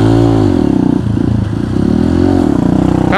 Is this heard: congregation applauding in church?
no